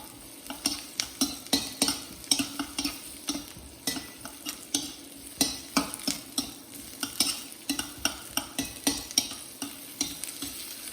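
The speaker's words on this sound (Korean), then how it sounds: "이 기름에다가 마늘을 볶아볼 건데요" Garlic sizzles in hot oil as it is stir-fried for a shiitake kkanpunggi dish, with a steady crackling hiss broken by frequent scraping spatula strokes against the pan, close and fairly loud, no talking.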